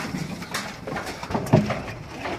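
Soft, low pigeon coos rise briefly over a faint background, with one fuller coo standing out near the middle.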